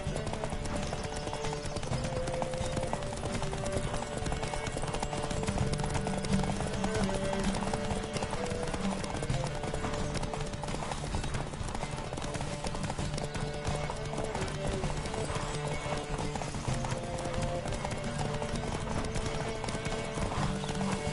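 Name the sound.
horses galloping and neighing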